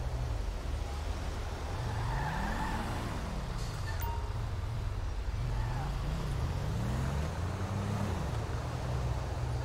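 Large truck being pulled over by police in GTA V's LSPDFR mod, with engine revs rising and falling as it slows, under steady road rumble, loud and close.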